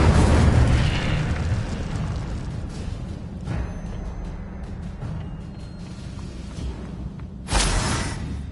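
The Incendio fire spell from Hogwarts Legacy bursts with a fiery whoosh and boom, fading into a rumbling tail before a second sharp blast flares near the end.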